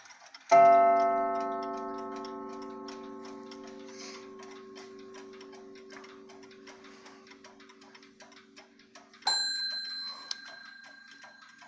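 A black antique mantel clock strikes the hour with a loud, ringing chime whose tones decay slowly, a steady tick-tock running beneath; near the end a second, brighter bell strike sounds.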